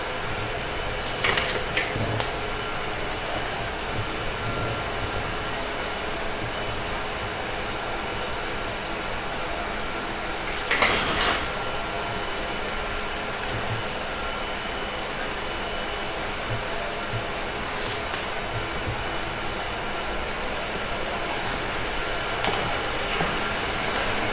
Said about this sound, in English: This is our 3D printer working.